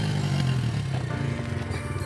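A kid's dirt bike engine runs steadily and close, a continuous low motor drone with slight rattling and no talk over it.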